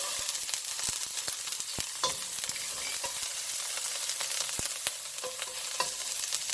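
Onion whites, garlic and ginger stir-fried in hot, smoking oil for lo mein, giving a steady close sizzle broken by frequent sharp scrapes and clacks of a utensil against the pan, with no talking.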